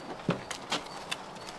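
A horse's hooves thud and knock a few times on a hollow surface as the horse is loaded into a truck, faint and irregular with quiet gaps between steps.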